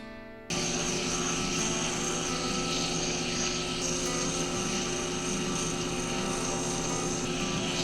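A lathe spins a slimline pen blank while it is sanded with 320-grit paper, producing a loud, steady whirring hum that starts abruptly and holds evenly throughout.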